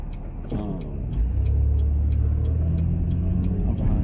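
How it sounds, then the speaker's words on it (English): A car rolls along a road behind two large trucks, with a steady low engine and tyre rumble that swells after the first second and holds, plus faint regular ticking, close and continuous without talk. "I'm behind two big ass trucks."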